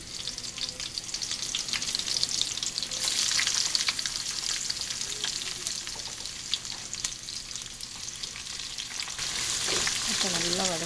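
Onions sizzling in hot oil with ghee in a pan for chicken biryani, a steady bright crackling fry with occasional stirring scrapes, close and continuous without talk.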